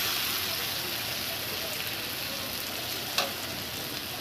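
Chilli, coriander, cumin and ginger frying with onion in a pan, a steady close sizzle throughout, broken once by a single sharp utensil tap near the end.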